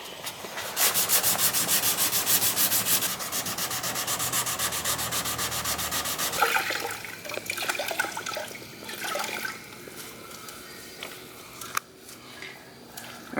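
Close, steady back-and-forth sanding strokes on fresh paint runs on a rebuilt, wrecked Dodge Shaker body in a garage, loud and rhythmic for about six seconds, then slowing into shorter, irregular rubbing passes with no talk.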